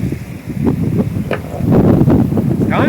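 Strong gusty wind of about 15 knots, gusting to 20, buffets a sailboat at sea, a rough rising roar with irregular surges and flapping, close and loud, with a voice briefly heard.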